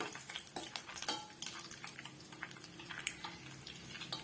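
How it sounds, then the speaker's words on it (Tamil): Raisins fry in a pan while being stirred, giving soft scraping and clinking of a utensil against metal over a faint, steady sizzle, fairly quiet and close. "இந்த திராட்சை வந்து நல்லா உப்பி வரட்டும் அது வரைக்கும் நம்ம வறுத்து விட்டுக்கலாம்"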